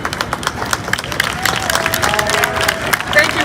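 Audience applause at a Juneteenth event in Chicago, many hands clapping in a steady sustained crowd sound with scattered cheers.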